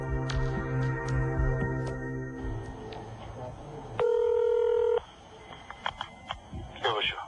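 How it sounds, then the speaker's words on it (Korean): A telephone number is dialed, a string of short touch-tone beeps followed by a longer tone as the call connects, then faint line noise, with voices talking near the start. "여보세요? 예. 예, 저 이한림 장군님 댁입니까?"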